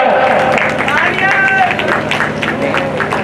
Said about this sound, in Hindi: तालियों से स्वागत, चंद्रमोहन अध्यक्ष जी का स्वागत